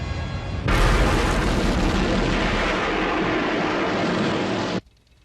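A detonation sets off a sudden, loud, broadband roar that holds steady for about four seconds before cutting off abruptly into quiet.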